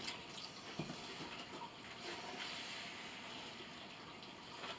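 Cold water runs and splashes into a bowl of homemade piñata paste mix, a faint, steady pouring gush lasting a few seconds.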